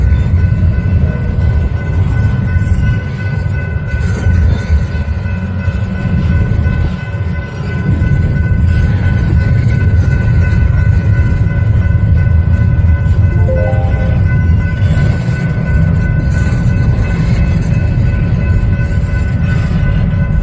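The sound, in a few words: Union Pacific eastbound stack train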